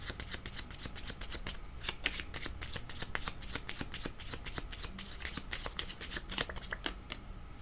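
A tarot deck is shuffled by hand in a steady run of crisp riffling card slaps, dense and continuous at close range with no talking.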